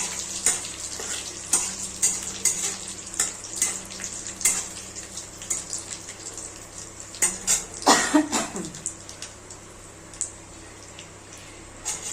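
Dried chillies, curry leaves and mustard seeds fry in hot oil for dosa, giving a steady sizzle with sharp crackles and pops and a louder burst of spattering partway through, close and without speech.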